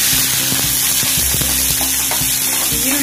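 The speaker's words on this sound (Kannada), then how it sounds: "ಮತ್ತೆ ಉದ್ದಿನ ಬೇಳೆ 1 ಸ್ಪೂನ್ ಹಾಕೋತಾ ಇದ್ದೀನಿ. ಸ್ವಲ್ಪ ತಿರ್ಕೊಳ್ಳೋಣ. ಇದು ಸ್ವಲ್ಪ ಫ್ರೈ ಆಗಬೇಕು." Urad dal frying in hot oil in a pan: a loud, steady crackling sizzle fills the scene, with occasional stirring scrapes and knocks from a spoon over it, and no talk.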